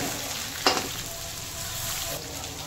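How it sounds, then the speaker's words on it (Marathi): Soybeans sauté in a pan with a steady, close sizzle and a sharp clink from a utensil stirring them near the start. "इथे आपले सोयाबीन परतत आलेली आहे"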